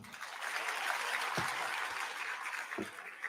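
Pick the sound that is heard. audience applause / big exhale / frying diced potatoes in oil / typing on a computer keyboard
audience applause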